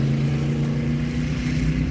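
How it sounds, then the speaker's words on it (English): A commercial food truck with a loud exhaust passes on an outdoor street, giving a steady, loud low engine drone that holds evenly throughout, with no talking. "That was a food truck with a loud exhaust like that."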